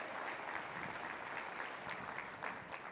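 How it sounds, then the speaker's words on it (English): Applause from the audience at the 69th DRJ conference general session, a steady wash of many hands clapping at moderate volume, continuous and dense for the whole stretch with no talk over it. "Give them a round of applause."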